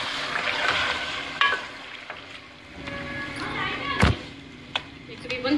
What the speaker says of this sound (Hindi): देखिए कि फ्राई हो रहा है